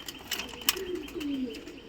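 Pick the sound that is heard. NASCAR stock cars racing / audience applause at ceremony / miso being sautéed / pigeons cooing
pigeons cooing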